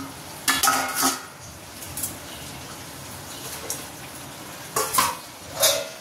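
Fish goes into a hot pan for frying in a home kitchen: a steady low sizzle runs throughout, broken by several sharp clinks and scrapes of a utensil against the pan, close and moderately quiet.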